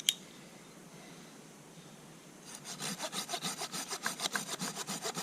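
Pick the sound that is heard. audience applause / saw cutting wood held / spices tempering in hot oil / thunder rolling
saw cutting wood held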